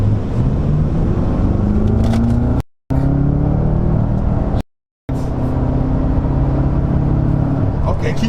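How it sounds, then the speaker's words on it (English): A BMW M5 accelerating at full throttle, with a loud, continuous engine drone rising steadily in pitch from inside the cabin, cut by two brief silent gaps. "See how it feels if I go full throttle."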